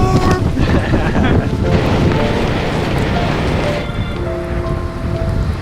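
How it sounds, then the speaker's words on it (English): Storm wind and rain batter mountain tents on Mt. St. Elias, a loud dense roar with flapping and rattling throughout, and occasional faint tones mixed in. "It was violent and windy, and the tents were shaking like mad."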